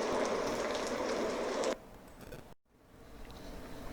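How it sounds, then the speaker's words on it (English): Steady rain pours down for almost two seconds, loud and dense. It then drops to a faint patter with a brief silent gap. "Yes, it started raining."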